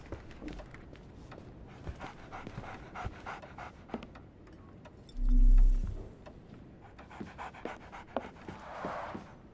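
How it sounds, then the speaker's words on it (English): In the video game Sherlock Holmes: The Awakened, a dog pants rapidly and continuously close by, with a brief louder thump partway through and soft whimpering toward the end. "So, Barnes has a dog now."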